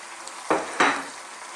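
Chopped fresh tomatoes, skins still on, hitting a hot pan of cooking vegetables: two quick, loud bursts of sizzling over a steady background fry.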